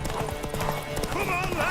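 Horse hooves clip-clopping in Witcher 3 during a horse race, quick rhythmic hoofbeats under shouting voices and a brief whinny, with game sound close and busy.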